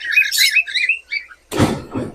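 Pet cockatiels and parakeets, including albino and lutino birds, give a quick run of bright, close chirps over about a second, followed by a short dull thump.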